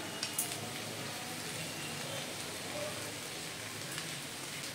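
Potatoes and onions sizzle in a frying pan as pre-fried eggplant is added, giving a steady, close crackling hiss with a few brief sharper spits near the start.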